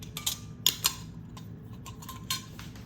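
A teaspoon adds pickling crisp to pint canning jars, making a few light metallic clinks and taps against the glass, spaced over a quiet background.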